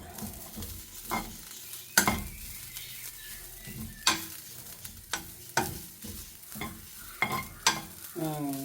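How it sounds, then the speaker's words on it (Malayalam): Grated coconut roasting to golden in a pan for koottu curry, with a spatula scraping and stirring in irregular strokes over a soft, steady sizzle, close and clear, with no talking. "നന്നായി വറുത്തെടുക്കുക."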